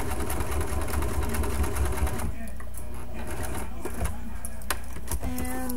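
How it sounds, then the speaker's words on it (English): A sewing machine runs steadily, stitching along the edge of a fabric hem on a corset tank top, loud and close, then stops partway through, leaving quieter handling noises. "we are just going to sew along the edge, along the hem that you've already made"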